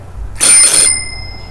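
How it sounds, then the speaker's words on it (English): A single bright bicycle bell rings out sharply, its metallic tone lingering briefly before fading against a quiet background. "the sound of a bicycle bell"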